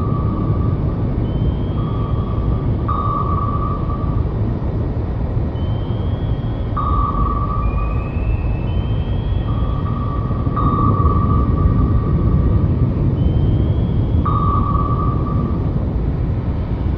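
Submarine sonar and noisemaker decoy during a helicopter-versus-submarine battle in the game Cold Water: a steady low underwater rumble with repeated short, clear tonal pings at irregular intervals, plus a few faint higher sweeping tones.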